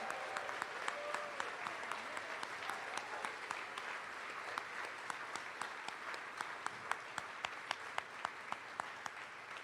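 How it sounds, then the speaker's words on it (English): A business awards audience at the Rising 30 class of 2024 event gives a round of applause, a soft, steady patter of many hands, with several sharper individual claps standing out, heard at some distance. "Let's give them another round of applause."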